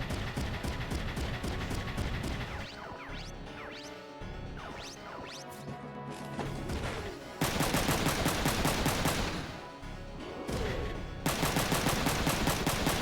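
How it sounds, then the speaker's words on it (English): Machine gun fire in the video game Front Mission 3: dense, rapid bursts of gunfire in several long stretches, loud and continuous, with crashing impacts and brief gaps between volleys, no voices. "What do you have? A machine gun."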